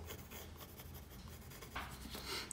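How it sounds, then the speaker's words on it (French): A pencil eraser rubs out a construction line on paper during a drawing, a soft, close, back-and-forth scrubbing that grows slightly louder in short strokes toward the end. "on va gommer notre trait de construction"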